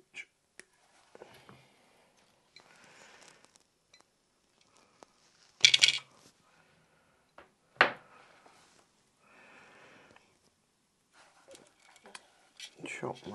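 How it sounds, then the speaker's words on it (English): Wire cutters snip the ground wire inside an Atari 2600 console during a composite video mod: two sharp, close clicks separated by a couple of seconds, surrounded by quiet handling and rustling, with faint murmured speech. "The first thing I'm going to do is chop my ground wire."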